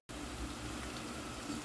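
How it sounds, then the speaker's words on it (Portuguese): Green banana slices fry in hot oil, a steady, even crackling hiss that starts abruptly and holds for under two seconds at a moderate, close level, with no speech. "Olha como está fritando nossa batata, nossa banana, bananinha frita."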